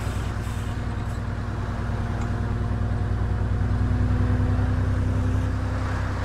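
Simulated E400MMC double-decker bus in OMSI 2, its diesel engine droning steadily at a constant low hum while the bus rolls along and slows for a bend, with no talking.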